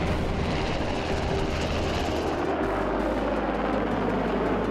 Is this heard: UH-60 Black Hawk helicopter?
yes